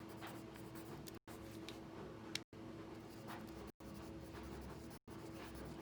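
Pen or pencil scratching across paper while writing music notation, a soft continuous scribble broken by brief pauses every second or so, quiet and close with no voices.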